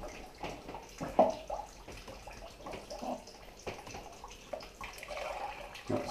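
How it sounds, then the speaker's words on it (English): Sparge liquor trickles and splashes from washed mash grains into a fermenting bin during all-grain homebrewing, an uneven close pouring with bubbly gurgles and drips, quiet and alone. "wash the grains out and wash all the sugars into the fermenting bin"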